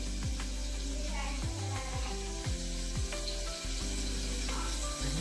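Chopped onion sizzles in hot oil as a tempering over a wood-fired clay chulha outdoors in a Konkan home, a steady crackling hiss with occasional clinks and stirring knocks, close and fairly loud.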